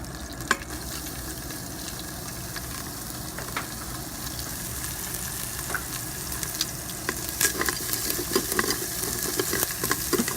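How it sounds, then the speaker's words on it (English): Onions sauté in oil inside an Instant Pot, a steady close sizzle with scattered light clicks and stirring scrapes that grow slightly busier toward the end. "We're going to saute those for a minute."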